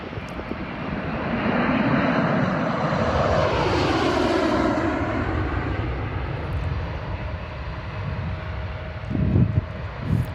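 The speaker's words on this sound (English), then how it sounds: "this plane is a narrow body" A narrow-body airliner at San Diego International Airport roars past, a loud, steady jet engine noise whose pitch slowly bends as it passes. A lower rumble remains near the end, and no one speaks.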